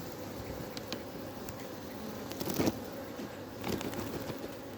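Honeybees buzz faintly and steadily from a freshly opened hive on a cold early-February day, the colony somewhat agitated, with a few brief louder bumps and rustles over the low hum.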